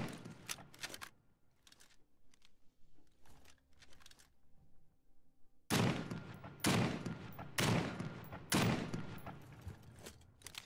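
Gunfire in The Front survival game during a PVE raid, sharp bursts of shots at first quieter and scattered, then louder rapid volleys close by in the second half.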